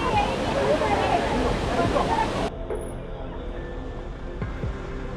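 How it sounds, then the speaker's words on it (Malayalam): The Silver Cascade waterfall near Kodaikanal gives a loud, dense roar of rushing water for a couple of seconds, then the sound cuts to a quieter background where people's voices are heard. "കൊടൈക്കനാൽ ടൗണിൽ എത്തുന്നതിന് കുറച്ച് മുമ്പാണ് സിൽവർ കാസ്കേഡ് വാട്ടർഫാൾസ്"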